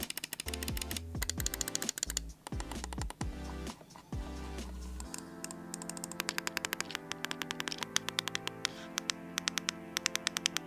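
Rapid mouse button clicks from a Corsair Scimitar Elite wireless mouse with optical switches, a quiet stream of crisp ticks at close range, first irregular, then a steady fast tapping over faint background noise.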